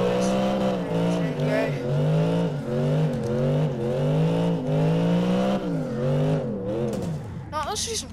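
Car engine in a first-person drifting video game, revving in third gear with a steady wavering tone that rises and dips in repeated surges, loud and close, ending in a brief high squeal.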